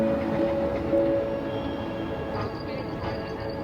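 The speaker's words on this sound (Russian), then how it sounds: "Посмотрим, как выглядит лиссабонское метро." A Lisbon metro train rumbles steadily in the underground, with a faint high whine and hum, running continuously at moderate volume throughout.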